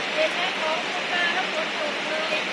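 Rain falls in a steady, even hiss, a constant wash of sound with no breaks, fairly close and alone.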